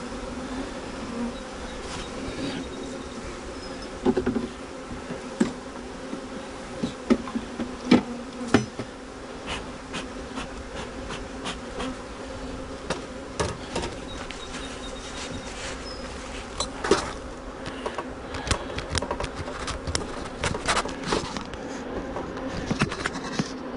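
Honeybees buzz steadily around a newly established hive, a dense continuous drone with nearby insects passing close now and then, giving brief louder swells over the constant hum.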